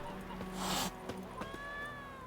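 A cat in The Witcher 3 video game gives a short, breathy hiss near the start, followed by brief meow-like tonal calls, heard over steady game background noise.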